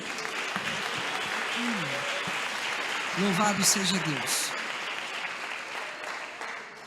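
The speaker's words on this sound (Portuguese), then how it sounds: "dando uma salva de palmas bem alegres para Jesus" Church congregation claps cheerfully for several seconds, a dense wash of applause under a voice speaking, with sung or spoken tones rising in the middle before fading.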